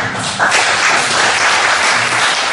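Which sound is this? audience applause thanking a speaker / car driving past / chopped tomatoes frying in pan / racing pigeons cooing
audience applause thanking a speaker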